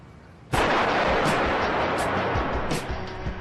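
A violent explosive blast against thick boiler plate steel erupts suddenly as one loud, close boom, followed by a sustained roaring rumble broken by several sharp cracking bursts as debris and the echoing detonation continue.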